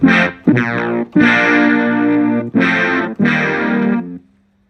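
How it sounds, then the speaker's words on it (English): A Casio CZ-1000 synthesizer plays a brass ensemble patch: five loud, bright, buzzy held chords of varying length, alone and close, the last one ending with a short fading tail. "Brass ensemble."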